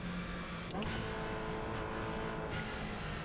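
A race car engine in iRacing's GR Cup at Lime Rock drones loudly and continuously as the pack gasses up, with other cars' engines blending into a dense, sustained roar.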